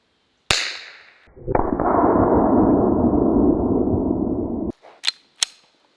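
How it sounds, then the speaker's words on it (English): A single sharp shot from a Glock 17 9mm pistol loaded with a rubber composite bullet cracks close and loud, followed by a sustained noisy rumble and a couple of brief metallic clicks at the end. "I have a Glock 17, and again, I'm loaded up with a rubber composite bullet."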